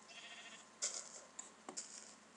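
A Minecraft sheep gives a couple of short, faint bleats over a quiet background, spaced apart with small clicks.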